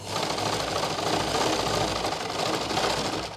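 Sewing machine stitching a salwar cuff with a half-inch margin, a continuous close, loud mechanical whir and rapid rhythmic knocking of the needle, with no talking.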